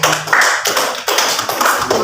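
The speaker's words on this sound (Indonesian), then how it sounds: "Tepuk tangan dulu untuk Sri Eka Putri" A classroom of students claps for a classmate during a science lesson: two or three loud, close bursts of hand claps, choppy and uneven, with little else around them.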